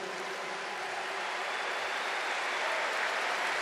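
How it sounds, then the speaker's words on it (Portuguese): A church congregation at a Catholic service applauds in a steady, continuous wash of clapping that swells slightly toward the end, with no voices standing out. "Pode aplaudir essa certeza."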